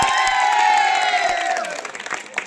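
An audience at a poetry recital bursts into loud cheering and whooping, with a bright sustained crowd roar that fades into scattered clapping over a couple of seconds.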